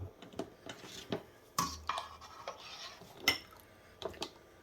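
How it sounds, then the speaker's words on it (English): Glass jars of mushrooms clink and knock against metal as they are set into a pressure canner, with a series of sharp, close clatters spaced irregularly. "go ahead and put it over in my pressure canner"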